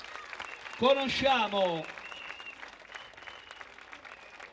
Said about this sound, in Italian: applauso per lui